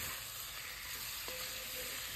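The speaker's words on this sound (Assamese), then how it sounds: "মাংসখিনি দি অকণমান সময় ভাজি ললোঁ" Chicken pieces frying in hot oil with onion-ginger-garlic paste, turmeric and cumin in a kadai, a continuous loud sizzle close up, with a light spoon knock partway through.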